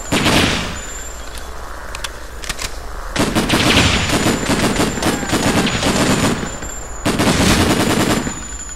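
Gunfire in the Xbox video game Breakdown: repeated loud automatic bursts and single shots in clusters, with short pauses between volleys.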